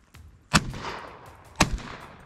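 Two sharp shotgun blasts fired while hunting guinea fowl in Senegal, loud and close, about a second apart, each followed by a short rumbling echo in the open air.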